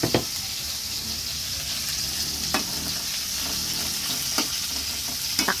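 Mixed vegetables fry in a hot pan with a steady sizzle, punctuated by several scraping stirs of a utensil, spattering oil close by and no talking.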